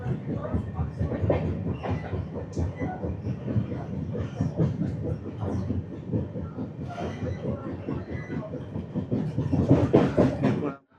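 Padatik Express night train running on Indian rails near Khana Junction, a steady rumble with rhythmic clickety-clack of wheels on track, close and continuous, swelling louder near the end.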